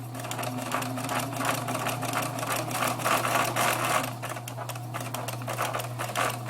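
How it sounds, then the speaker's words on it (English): A sewing machine stitching through four layers of fabric for a hedgehog snuggle bag, a fast steady mechanical whir and rattle with a constant motor hum, close and continuous. "Let me sew a little bit more and then I'll show you what this looks like."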